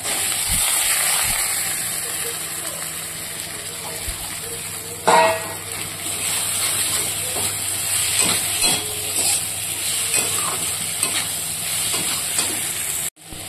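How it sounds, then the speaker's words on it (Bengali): Fried potatoes stirred into a frying spice masala in a home kitchen pan: a continuous hiss of sizzling with occasional scraping and knocks of the spoon, one louder clatter partway through, close by. "এবার আমি এখানে ভেজে রাখা আলুটা দিয়ে দেবো।"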